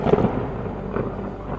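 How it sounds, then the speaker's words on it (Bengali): Sudden stormy wind gusts over a river in the middle of a fishing trip by boat, a dense low rumbling roar with thunder-like weight, short and alone. "কিছুক্ষণ পর হঠাৎ ঝোড়ো হাওয়া বইতে শুরু করলো।"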